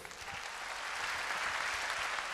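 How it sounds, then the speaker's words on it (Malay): A university audience at a UKM ceremony breaks into sustained applause for a guest of honour, a dense, even roar of many hands clapping that holds steady throughout with no talk over it. "Satu tepukan untuk Dr. Mahathir"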